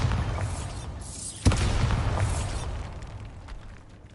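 A Bombarda blasting spell cast in a Harry Potter video game, one sharp explosive crack followed by a rumbling, crumbling roar that slowly fades away.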